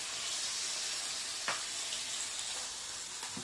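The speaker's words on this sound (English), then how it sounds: "Hear that sizzle." Steady broadband sizzling from beef stir-fry in a hot pan, with a few faint clinks and scrapes over the continuous hiss.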